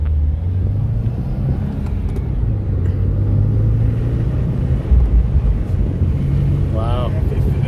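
A 2015 Subaru WRX on the move with a low, steady engine rumble and road noise, a brief surge partway through as it shifts gear, with a short voice near the end.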